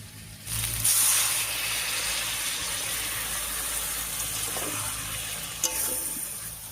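Water poured into a pan of spiced taro stolons frying in oil brings up a loud, steady sizzle and hiss, with a few stirring scrapes over about seven seconds and no voices.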